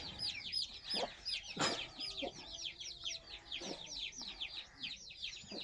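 Chicks of a red rooster peep in rapid, high chirps throughout, many overlapping in a busy chorus close by, with a few louder clucks from an adult hen breaking through.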